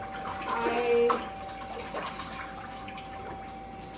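Glaze is poured over a pottery piece in a potter's workshop, making a brief, soft liquid pouring splash near the start that fades into quiet room tone. A single short spoken word is heard.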